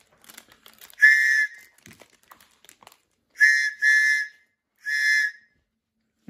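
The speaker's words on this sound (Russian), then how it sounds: "а свисток протестирую сейчас" A small whistle tested with four sharp, shrill blasts, the first and last single and a quick pair in between, with faint rustling and handling noises between them.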